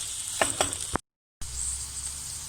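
Garlic with cubed potato and carrot sautéing in a little oil makes a continuous close sizzle, broken by a few stirring knocks and a brief cut to silence.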